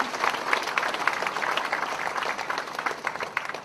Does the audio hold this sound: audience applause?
yes